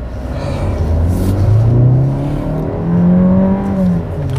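A 2021 Opel Grandland X with a 4-cylinder 1.6 turbocharged petrol engine drives along, its steady engine drone rising and falling as it accelerates, loud and close with no talk.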